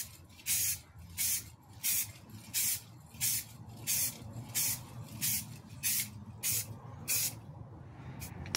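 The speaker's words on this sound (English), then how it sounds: "So I'm just giving things a spray down with some rusty metal primer." Repeated short bursts of aerosol rusty metal primer hissing onto a Ford E350 van, about a dozen evenly spaced sprays with brief pauses between, close and fairly loud.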